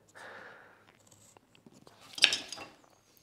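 A knife paring wood along the grain on a carving, giving a soft shaving scrape followed by a sharper slicing cut, close and quiet with near silence between strokes.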